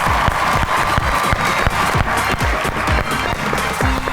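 Studio audience at a comedy show clapping to welcome comedian Tahir Noshad, loud close rhythmic applause with sharp individual claps and a brief musical sting near the end.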